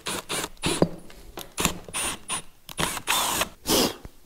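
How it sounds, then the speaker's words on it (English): A power drill bores a hole in short, whirring bursts with gaps between them, close and fairly quiet, with small clicks and rattles in between. "I'll show you guys once I get this hole drilled."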